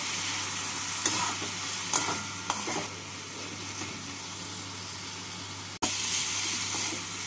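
Onion, tomato and ground spice paste frying in a pan for a Bengali tangra fish curry with aubergine and potato: a steady close sizzle with a few sharp stirring scrapes and one brief clatter, no talk.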